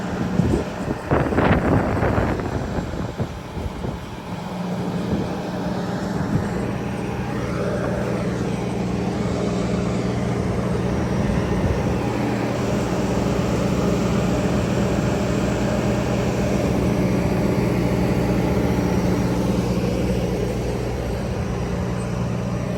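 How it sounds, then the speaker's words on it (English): An outdoor Kohler 80 kW standby generator drones with a steady low engine hum, loud and continuous, with a burst of wind buffeting at the start. "looks like one generator is inside a building and this Kohler unit isn't"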